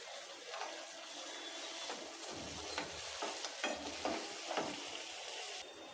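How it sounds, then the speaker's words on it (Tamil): A tomato mixture sizzles and fries steadily in a pan, with a few scraping stirs from a utensil cutting through the hiss. "இது நல்லா வதங்கிட்டு இருக்கட்டும்"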